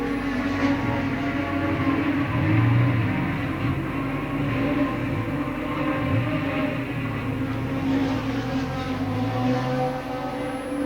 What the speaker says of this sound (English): he's obviously got engine trouble. You can hear the Courage car is not happy.